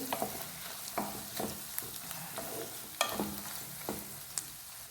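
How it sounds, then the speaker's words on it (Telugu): A carrot and egg fry is stirred in a pan at close range: irregular scraping and clacking strokes of a spoon over a soft, continuous sizzle of frying. "ఇది వేసేసుకోవడమే ఇంకా కలుపుదాము ఒకసారి అంతా ఇది కలుపుదాము"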